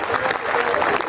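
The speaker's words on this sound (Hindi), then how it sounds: "जोरदार ताली बजाते हैं।" Loud, close applause from the audience at an all-India Hindi poetry gathering (kavi sammelan) in Anuppur, dense rapid clapping from many hands that carries on steadily throughout.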